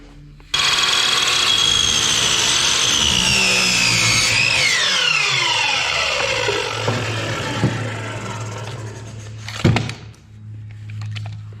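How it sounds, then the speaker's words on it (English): Miter saw cutting wood for a deck gate: the motor spins up sharply, whines loudly through the cut, then winds down with a falling pitch, followed by a brief clunk. "I'm just gonna do the rest on the miter saw because it's a little bit easier"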